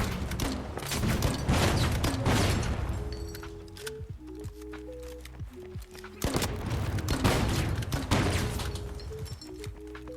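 Gunfire in the shooter game The Finals: bursts of dense, rapid shots with heavy impacts and crashes, alternating with brief lulls, loud and close, over a low synthesized tonal backdrop.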